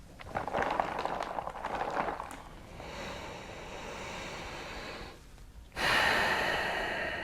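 Heavy, controlled breaths during Wim Hof-style cold exposure come as a few rushing inhales and exhales, close and airy, with a sharp loud intake near the end and no speech.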